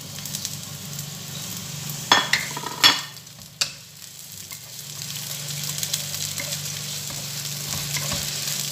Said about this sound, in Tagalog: So, lagay natin yung onion first.